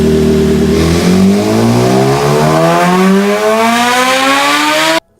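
A last-generation BMW S1000RR superbike engine climbs steadily through the gears, loud and close, its high-revving whine rising continuously before cutting off abruptly.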